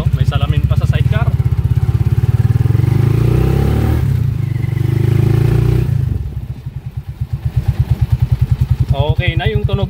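Honda TMX155 motorcycle with sidecar running smoothly without ticking, a close, steady engine throb with a brief rev, while someone talks over it throughout.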